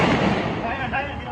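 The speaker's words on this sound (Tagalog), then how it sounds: "Sinundan ito ng sunod-sunod na putok ng baril." A rapid series of gunshots follows a sudden blast near a turning army vehicle, with loud, dense, continuous crackling reports that fill the whole stretch.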